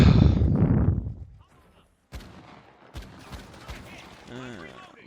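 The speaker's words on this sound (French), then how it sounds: "je me prends des balles, je sais pas d'où ça vient" Bursts of gunfire in the shooter game The Finals: a loud opening salvo that fades, a short silence, then several sharp separate shots with rattling noise between them.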